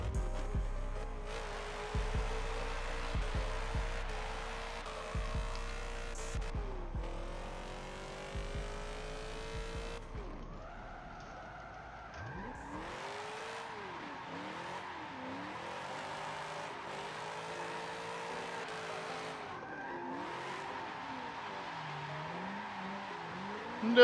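A Kouki S14 with a V8 swap in Forza Motorsport 7, drifting at night. The engine revs and bounces off the limiter, while tires squeal in long wavering screeches. The sound is continuous, close and loud throughout.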